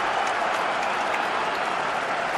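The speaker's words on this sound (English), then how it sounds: "Huge cheer around this ground." A large crowd at a cricket ground during England versus Australia in 2019 roars and applauds in a dense, continuous, loud wash of noise.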